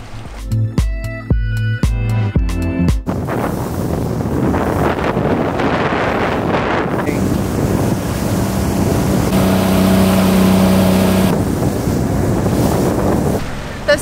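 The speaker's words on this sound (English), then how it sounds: "see those boats up ahead? Those are all tour boats." Steady wind buffeting and rushing water on a cold, choppy sea off Milos, Greece, with tour boat engines droning nearby and a faint tonal hum partway through.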